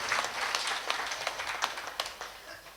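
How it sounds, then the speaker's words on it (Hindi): Audience applause at a Shrimad Bhagwat katha gathering in Vrindavan, a steady crowd clapping that holds for several seconds at moderate loudness with scattered sharper claps. "उन पूरी टीम के लिए एक बार जोरदार ताली बजा करके उत्साहवर्धन करें।"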